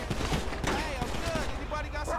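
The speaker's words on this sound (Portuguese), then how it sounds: "Tão trocando tiro com os bandidos," Gunfire crackles in a Grand Theft Auto V shootout between police and criminals, with rapid overlapping shots spread through a short, busy stretch of game noise.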